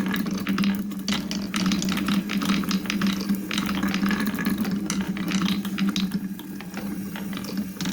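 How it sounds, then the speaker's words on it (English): A wooden marble machine runs with gears turning and a ratchet clicking steadily: dense, continuous rattling and clacking of wooden parts and rolling marbles, close and even in level, without speech. "50 years later, they would be sending us wooden marble machines to amuse us."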